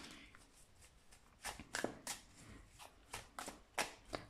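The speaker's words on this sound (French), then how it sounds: "je mélange bien parce que comme les cartes étaient dans l'ordre" Dreams of the Past tarot cards of smooth card stock being shuffled by hand at close range: a quiet run of soft riffles and slaps, with several sharper bursts, and no talking.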